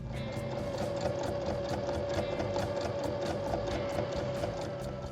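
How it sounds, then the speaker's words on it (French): Sewing machine stitching a lining pocket for a bag, a steady fast mechanical chatter with a constant motor hum, heard close and alone for several seconds. "on va piquer sur trois côtés pour la maintenir"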